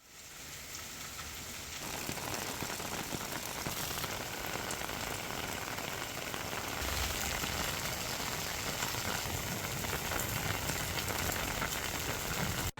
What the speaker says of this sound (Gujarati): જે આગાહી મુજબ પંચમહાલ જિલ્લામાં વરસાદની શરૂઆત થઈ છે।